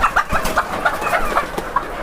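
Sonali chickens cluck and chatter continuously on a poultry farm, a dense, close flock with short repeated calls overlapping one another, no voices.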